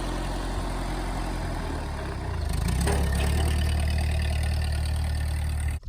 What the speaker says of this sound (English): We're gonna look at my 8N tractor, 1952 model